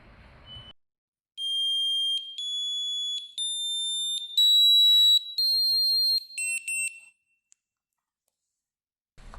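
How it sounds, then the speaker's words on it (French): A series of clear electronic beeps from an SG Pulse Pro countdown timer, some long and some short, stepping in pitch over several seconds, with silence before and after. "les bips que j'ai mis à 10 secondes puis 5, 4, 3, 2, 1 avant le 0"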